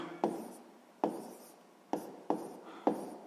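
A pen writes out a sixth-grade math solution on paper: five separate scratchy strokes land at uneven intervals, each a sharp start trailing off quickly, close by and fairly quiet, with no other sound between them.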